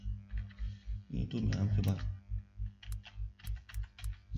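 A room name is typed on a computer keyboard in a fast run of quiet, steady clicks, with someone speaking over the keystrokes.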